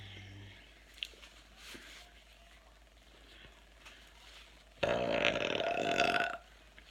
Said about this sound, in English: Good burps.